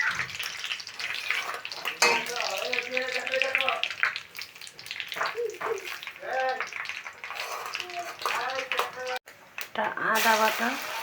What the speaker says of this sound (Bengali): আস্ত কিছু পাঁচফোড়ন দিয়ে দিব।